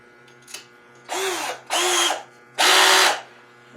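A Hychika DD18F cordless drill boring into wood with a 1/2 inch bit: three loud whirring bursts of roughly half a second each, with short pauses between them, heard up close.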